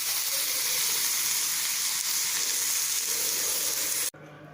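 Chopped tomatoes, cut into large pieces, fry in a pan for sundal kuzhambu. A steady, loud broadband sizzle runs almost throughout, then cuts off abruptly near the end, leaving a quieter background.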